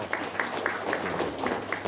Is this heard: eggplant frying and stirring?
no